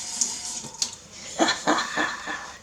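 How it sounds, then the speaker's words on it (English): Tap water runs in short splashing bursts over green peppers being rinsed in a sink, close and uneven, with no talk. "Well, I already rinsed these green peppers out. Let me rinse again."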